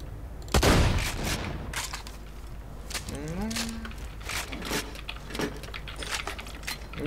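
A sharp explosive shotgun blast opens in Borderlands 2, then scattered cracks and bangs in a game-like din, with a brief low mooing tone in the middle.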